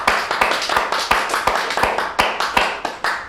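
An audience applauding at a ceremony, a burst of brisk, sharp claps repeating in an uneven rhythm, close and fairly loud, with no talk over it.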